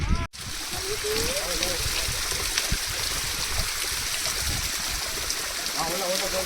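Water rushes and splashes steadily nearby, a continuous stream flowing down from above at Matheran, Maharashtra, with people talking over it.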